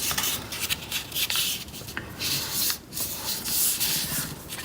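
Paper folded into an origami corner bookmark: steady close rubbing and creasing sounds with brief crinkles and sharper swipes, continuous and fairly loud, with no talking.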